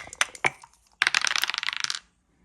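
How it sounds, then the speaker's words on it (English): Backgammon dice are rolled on a solid burled wood board, giving a few sharp clacks followed by a fast rattling run of clicks that stops abruptly, close and fairly loud. "the dice, as much as they don't bounce, they are loud on the board. Listen to this."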